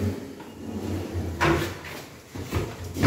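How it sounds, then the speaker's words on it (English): Soft-closing drawers in a modular kitchen being pulled open and pushed shut, a few smooth sliding rumbles with soft muted thuds as they close, close by with no talk. "these drawers really smooth in operation and provided with soft closing as expected"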